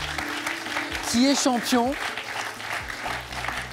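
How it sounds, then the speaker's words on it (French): A studio audience applauds a contestant on the French TV game show Question pour un champion, a steady wash of clapping that runs throughout while the host talks over it. "on va applaudir Gilbert qui a fait un très beau parcours"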